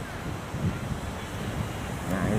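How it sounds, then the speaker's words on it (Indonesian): Waves wash onto the shore at Pasir Putih beach in Tuban, East Java: a continuous roaring surf with rolling swells, buffeted by heavy wind noise on the microphone, no voices. "Nah ya ini suasana pantainya ya."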